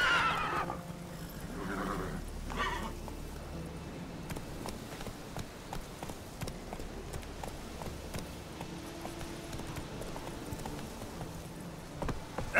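Roach, a horse in The Witcher 3: Wild Hunt, whinnies loudly near the start, then gallops in a steady clip-clop rhythm of hooves under game music and ambience.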